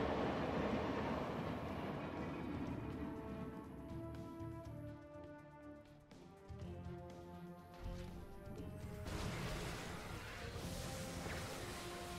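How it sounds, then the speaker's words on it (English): A train in StarCraft 2 rolls along with rhythmic clattering wheels and metallic rumbling, while pitched tonal game sounds and music-like tones run over it; no one speaks. "Knock that train over, raise some hell."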